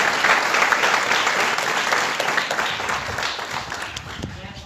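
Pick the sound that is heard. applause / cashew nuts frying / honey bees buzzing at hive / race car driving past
applause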